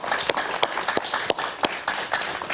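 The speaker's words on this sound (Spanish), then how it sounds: "Un aplauso para Frank Mora" Scattered applause for a guest on a Spanish-language TV talk show, a small group of distinct, uneven hand claps rather than a dense roar.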